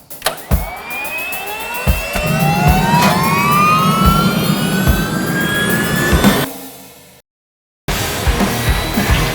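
A real turbine engine spools up with a loud, rising whine and rhythmic thumping pulses, holds a roaring high pitch, then cuts off abruptly before the noise returns.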